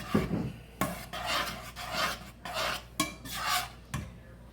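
Olive oil being stirred into a roasted tomato pizza sauce, a utensil scraping and rasping against the pot in repeated strokes of about a second each, close and clear with no talking.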